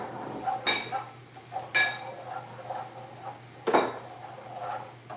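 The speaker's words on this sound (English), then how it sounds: "I'm gonna give this a stir" A utensil scrapes and clinks against a pot while stirring a chicken bouillon gravy roux, several sharp metallic knocks spaced irregularly between softer scraping, close and fairly quiet over a low hum.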